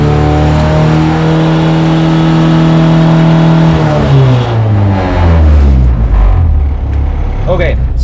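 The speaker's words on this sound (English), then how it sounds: "Okay, so revved it to get the oil pressure up" A Mazda Miata with a swapped GM Ecotec engine revs hard and holds a high steady drone, then the revs drop away and it settles back toward idle, loud and close with talk over it.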